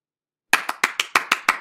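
Seven sharp claps at a slow, even pace from what sounds like one pair of hands, coming in after half a second of silence. The claps are close and fairly loud, with no voices.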